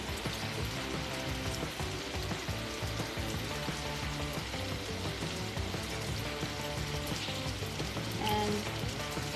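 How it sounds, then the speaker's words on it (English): Onion rings fry steadily in hot oil with a dense, continuous sizzle and crackle up close, even in level from start to end, with no voices. "the oil is hot enough to fry these onion rings"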